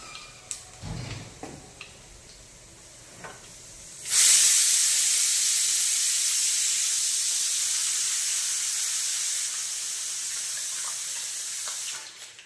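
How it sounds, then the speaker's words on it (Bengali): Panch phoron whole spices dropped into hot white oil in a kadai, a sudden loud hiss that breaks out after a few soft clinks and stays as a steady frying sizzle, slowly fading. "এবার সাদা তেল দিয়ে দিচ্ছি কড়াই, দিয়ে দিলাম ফোড়নে 5 ফোড়ন"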